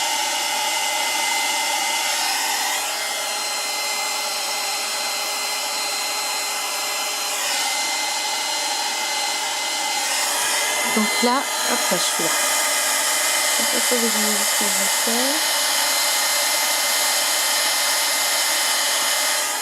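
Steady loud whooshing blow of a heat tool melting embossing powder on a paper mini album, running continuously close by while someone speaks briefly over it.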